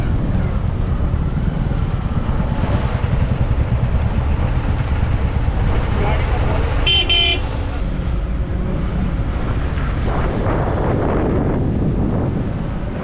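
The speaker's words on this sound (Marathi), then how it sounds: "दिवे घाटात फुल ट्रॅफिक आहे" Vehicles idle and crawl in a traffic jam on the Dive Ghat road, with a brief loud horn toot midway over steady engine rumble and wind buffeting the microphone.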